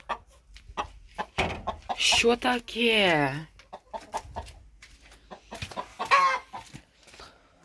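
Hens cluck and squawk on a farm in the morning after rain while taking sand baths, with a drawn-out rising and falling call in the middle and someone talking close by between the calls.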